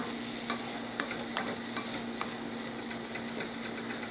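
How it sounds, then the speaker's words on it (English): Food sizzles steadily in a hot pan, a continuous hiss broken by a few light clicks and pops of stirring. "Hear them? They're starting to sizzle."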